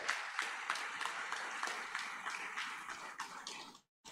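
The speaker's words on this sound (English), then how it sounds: "I would like to get a big applause for you" Applause rises from a gathered alumni audience, a modest spatter of individual claps in a quick uneven rhythm, fairly faint and distant, cutting out abruptly just before the end.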